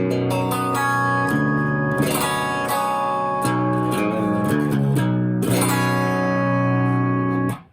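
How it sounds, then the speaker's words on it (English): A clean, bright electric guitar on a split humbucker, dry, plays chiming chords and arpeggiated notes with no distortion, ringing steadily before fading at the end. "what you're hearing right now is my dry clean tone"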